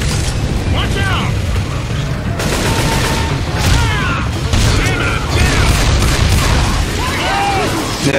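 Loud, sustained gunfire in Left 4 Dead 2, rapid shots layered with bursts and mechanical clatter of weapons, with shouted player voices over the shooting.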